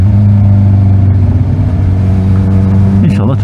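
A Suzuki GSX-R 1000 motorcycle cruises on the motorway, its engine a steady, loud low drone with wind rush that rises briefly near the end. A voice talks over it.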